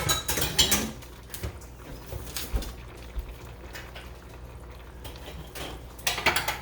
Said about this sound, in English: Give this some more stir. While that is still thickening,